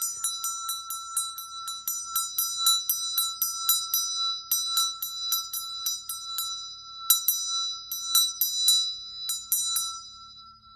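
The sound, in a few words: bell rung for peace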